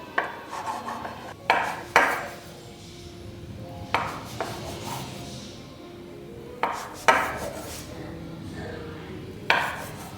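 A knife slices through a rolled log of garlic bread dough on a board, giving about half a dozen separate soft cuts with knocks, spaced irregularly and fairly close.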